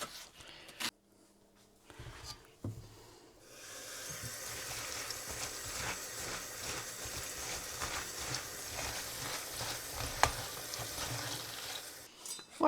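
Leeks sautéing in butter in a pan or casserole dish: after a few clanks and quiet handling, a steady sizzle starts and keeps going, soft and close, with occasional stirring knocks.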